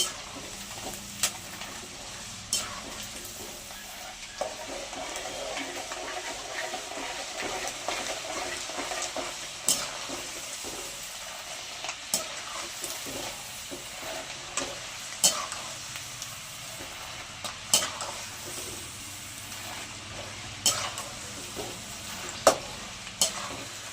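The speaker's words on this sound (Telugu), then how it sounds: "కొంచెం కలర్ చేంజ్ అయ్యేంత వరకు వేయించేసుకుంటే సరిపోతుంది" Dal and peanuts frying in a pan for a spicy puffed rice snack, giving a steady broadband sizzle with scattered light clicks of stirring and popping throughout, close and fairly quiet.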